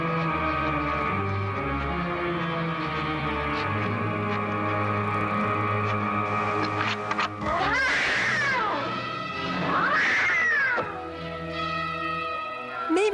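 A family cat in a film yowls twice in long, wavering, rising and falling cries that follow sustained musical tones, each cry loud and close.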